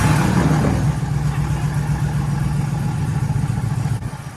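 A 1957 Chevy rat rod engine runs outdoors in cold weather with a steady, rough low rumble and faint clatter, close and fairly loud, easing slightly toward the end without any talking.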